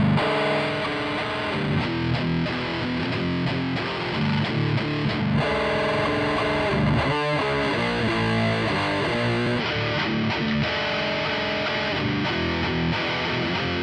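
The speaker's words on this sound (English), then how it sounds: "These are modern thrash tones." Heavily distorted modern thrash metal guitar played through a Laney IronHeart amp simulation app on iOS, dense palm-muted riffing and chugging chords that run continuously and loud for the whole stretch.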